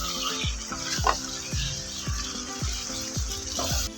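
Chicken sukka masala frying on a low flame for Mangalorean-style chicken sukka, a steady soft sizzle with a faint rhythmic pulsing beneath it throughout.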